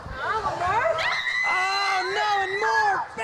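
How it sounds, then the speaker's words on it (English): Loud, sustained screaming voices from a wrestling crowd during a thumbtack spot, layered wailing tones holding for several seconds over general arena noise. "You can hear the screams."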